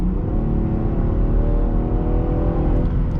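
A 2023 Land Rover Defender 130 with a turbo engine accelerating on the road, its engine and turbo giving a continuous, loud, even drone with steady road roar and no talk.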